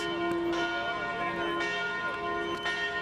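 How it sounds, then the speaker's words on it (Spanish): Church bells ring with a rich, resonant hum to announce the start of a ceremony, struck several times at irregular intervals, each strike blending into the lingering tone. "también se anunciaba el inicio de la ceremonia con el tañido de las campanas"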